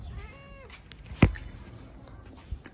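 A cat gives a drawn-out meow followed by a sharp, louder cry, close by, with faint background noise and a few small knocks.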